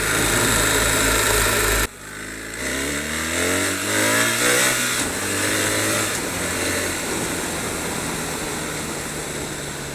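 A BMW 1300 GS motorcycle engine droning loud and close while riding on a rough road, pitch dipping and then climbing steadily as the bike accelerates, with wind noise around it.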